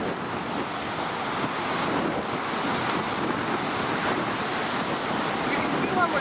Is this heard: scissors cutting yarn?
no